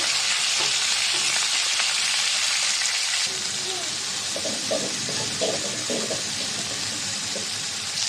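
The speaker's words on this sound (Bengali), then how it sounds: "বেশি একটা ভাজবো না হালকা করে ভেজে নেব" Chicken meat sizzles loudly in a hot pan while being browned for a bhuna curry, with steady crackling, frying hiss and occasional stirring scrapes close up.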